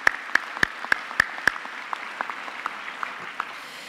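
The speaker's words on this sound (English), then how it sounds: "we can give him also a hand of applause" Audience applause at a university graduation ceremony: a few loud, crisp claps up front ring out in a steady rhythm, then thin into scattered, fainter claps trailing off in a large hall.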